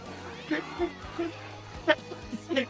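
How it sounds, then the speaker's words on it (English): Several short cartoon cat meows scattered over a few seconds, some drawn out and wavering, from an animated show, with voices talking faintly in the background. "The cat noises,"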